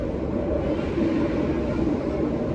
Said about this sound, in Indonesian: kereta api Manahan ini melintas langsung di stasiun Kroya